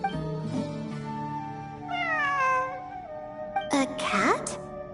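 A cat in Genshin Impact meows several times, drawn-out and fairly close, over soft game background music, ending with a brighter jingling flourish.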